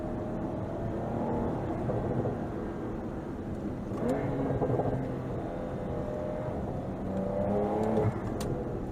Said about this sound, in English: Oh, the crackle pops.